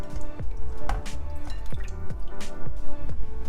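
Rice grains swished by hand in rinse water in a pot, with close, repeated sloshing and dripping splashes in an uneven rhythm, fairly loud with no talking.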